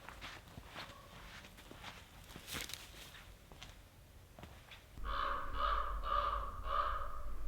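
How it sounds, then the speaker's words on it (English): Several loud, repeated caws from a crow in a chilly forest come in a quick rhythmic series near the end, after quieter rustling footsteps on a woodland trail. "Do you hear Mr. Crow talking to me?"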